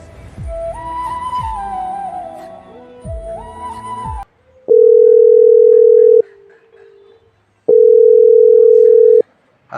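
A telephone tone sounds as a call is placed, two long steady loud beeps separated by a pause, after a short burst of music.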